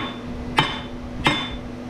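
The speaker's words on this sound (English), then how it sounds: "crack them with the hammer first" Two sharp hammer strikes crack small scrap parts, spaced well apart, each a loud metallic crack with a ringing tail over a low steady background hum, and no talking.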